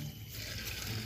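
Water from a home well poured into a container for mixing an amino acid plant treatment, a steady close trickle and splash running throughout without talk.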